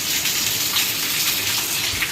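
Heavy rain pours steadily in Junagadh, a dense, loud, unbroken hiss of falling water close by with no voices.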